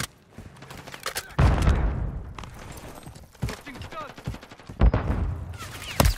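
Video game gunfire in bursts of rapid shots and thuds, loud and close, with game voices calling out amid the shooting.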